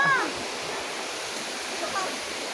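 Rushing water at a cold bathing spot near Iligan City, a steady broadband roar filling the clip with people speaking faintly over it.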